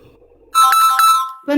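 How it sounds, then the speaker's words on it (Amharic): A mobile phone ringtone rings loudly and close, one bright melodic burst lasting about a second, a short pause, then it starts again. "ስልክ አሁን ይሰማል እኮ"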